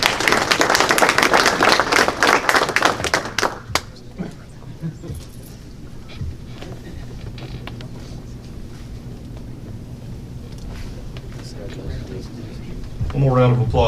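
Audience clapping at a high school state championship news conference, a burst of claps in the first few seconds that quickly dies away, leaving quiet room tone.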